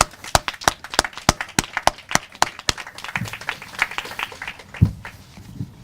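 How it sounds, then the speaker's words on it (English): Scattered audience applause at an outdoor tree-planting ceremony for Plant-A-Tree Month in Burbank: a run of sharp, distinct claps that thickens into a looser patter of many hands, moderately loud, with no talking. "Now we can applaud."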